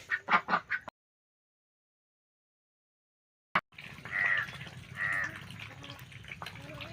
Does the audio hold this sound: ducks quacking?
yes